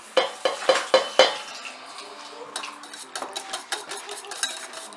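A utensil beats yema cake batter in a bowl: five sharp metallic clinks come first, then a rapid run of lighter scraping taps against the bowl. Close and alone, with no talk.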